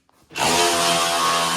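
A power tool spins out bolts while the top comes off a Chevy 2, starting with a brief tap and then a loud, sustained whirring drone that holds steady up close to the end.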